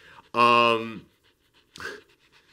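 Rhythmic panting breaths from a dog, one strong harmonic burst followed by a shorter softer one after a pause, close and fairly loud with no talking.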